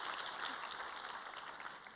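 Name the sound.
church congregation applause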